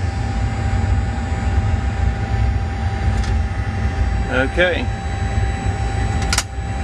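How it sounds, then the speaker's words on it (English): Boeing 737 jet engines in the cockpit make a steady, droning roar with a constant hum throughout, while someone speaks briefly over it and a few faint clicks and tones sound. "so now both of our engines are running"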